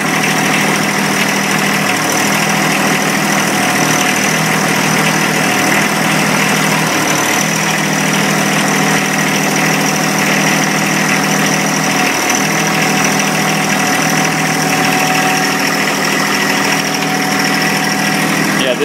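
A tractor engine idles steadily while warming up, a loud, close, continuous drone with an even rumble and no change in pitch across the whole stretch.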